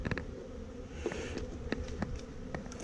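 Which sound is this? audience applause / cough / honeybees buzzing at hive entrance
honeybees buzzing at hive entrance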